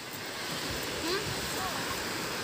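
Steady wash of sea waves at a white-sand beach in Bolinao, Pangasinan, a broad continuous surf hiss with wind noise, moderately loud and uninterrupted, with faint voices nearby.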